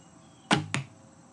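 A bare-shaft arrow loosed from a recurve bow during tuning: a sharp release snap followed about a quarter second later by a solid thud as it strikes the target, both close and crisp over quiet background.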